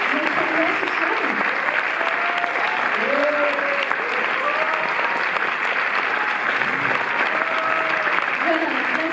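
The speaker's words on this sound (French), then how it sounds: "je voudrais aussi que vous applaudissiez à tout rompre Jean-Hugues Anglade" Strong, continuous applause from a cinema audience at a special screening evening, dense clapping throughout with voices and a few shouts rising over it.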